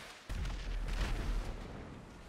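Rocket striking a vehicle in Grand Theft Auto, a sudden loud explosion with a heavy low boom that rumbles on and slowly decays, with no talking.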